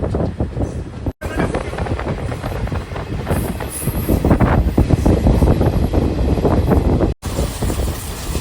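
The Sabari Express pulls out of Ongole station with a loud, close rumble of rolling wagons, rattling and clattering wheels and faint squeals, continuous throughout.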